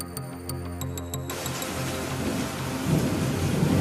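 Steady heavy rain pours throughout a thunderstorm, with rumbling thunder rolling low beneath it and building toward the end, loud and close with no voices.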